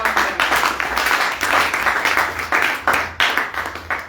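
Church congregation applauding together during a Sunday service, steady dense clapping with rhythmic surges filling the room, loud and close throughout with no speech over it.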